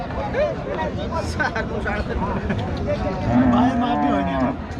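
Cattle lowing amid a busy outdoor livestock market crowd, with overlapping voices and chatter; a long low moo swells near the end over the market din.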